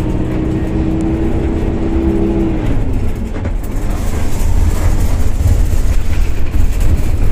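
A city bus travels the route from Bogor toward Blok M, with loud continuous engine drone and road rumble heard from inside, plus a brief whining tone that fades early on.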